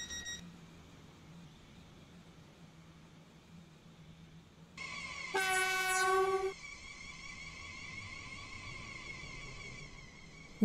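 A train in the Roblox game Stepford County Railway runs on a Stepford Connect service, with a steady low rumble, then a sustained multi-tone horn blast that swells briefly louder before a continuing tone.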